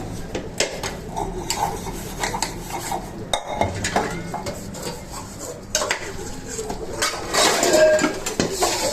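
Metal dishes, pots and pans being scrubbed quickly by hand, with continuous rubbing, scraping and clinking of utensils and cutlery close by, in a brisk uneven rhythm with occasional louder clanks.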